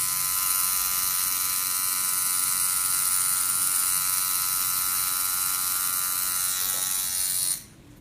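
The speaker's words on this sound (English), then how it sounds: "There's nothing more beautiful than the sound of the tattoo machine." Continuous close buzzing of a tattoo machine at work during live tattooing holds steady and loud, then drops away sharply in the final half second.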